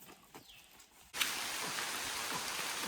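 Rain on a farm starts abruptly after a quiet moment with faint birdsong, turning into a steady, close, dense patter of heavy rainfall.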